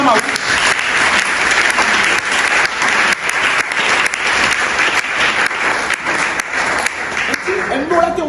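A church congregation applauds and acclaims the Lord in continuous, dense clapping that stays loud and steady throughout, with faint voices mixed in.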